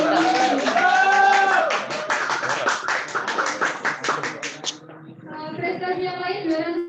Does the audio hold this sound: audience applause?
yes